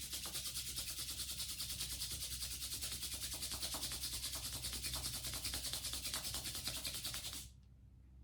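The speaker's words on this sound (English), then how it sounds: "Rub your palms gently." Palms are rubbed together during a yoga session, a close, steady rhythmic swishing friction that runs for about seven seconds and then stops abruptly.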